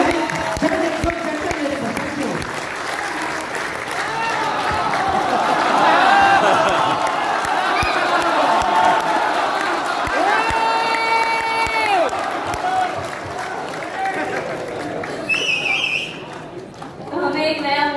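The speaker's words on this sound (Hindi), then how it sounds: "एक बार जोरदार तालियां हो जाए" An audience at a motivational talk bursts into loud, sustained applause mixed with cheering and shouts, swelling and then easing off over many seconds, with voices calling out within the crowd noise.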